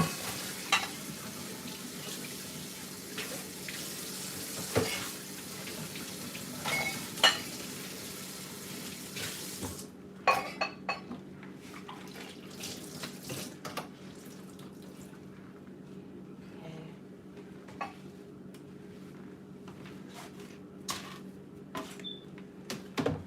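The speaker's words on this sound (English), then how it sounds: "Rinse that off." Tap water runs steadily as dishes are rinsed at a kitchen sink, with scattered clinks and knocks of dishes and a louder rush of water early on before the flow softens.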